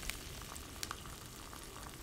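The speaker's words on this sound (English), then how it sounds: "There's a nice sizzle" Anchovies and garlic sizzle in oil in a pan for cauliflower with anchovies, a faint, even frying hiss with a couple of small pops and clicks, no talk.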